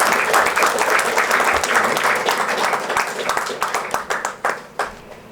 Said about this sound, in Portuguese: mas uma salva de palmas